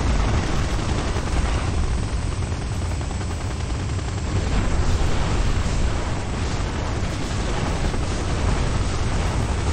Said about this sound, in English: Oh, you have helicopters, eh?